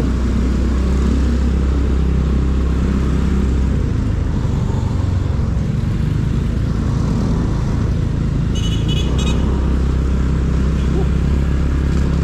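A motorcycle engine runs steadily and loudly up close after refuelling, with a constant low rumble amid traffic and a voice briefly heard.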